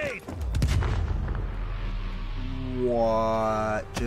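A grenade blows up in the Black Ops Cold War campaign with a loud, sharp boom that trails into a low rumbling hum, and a voice shouts toward the end.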